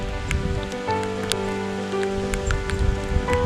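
Steady rain pattering on a wooded hiking trail near Blackwater Falls, a dense, even hiss with scattered sharper drops, close and continuous with no voices.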